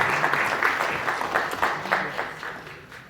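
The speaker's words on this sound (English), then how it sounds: "So big round of applause for them." Audience applause at an annual charity fundraising evening, a steady dense patter of many hands clapping that swells and eases in waves before tapering off.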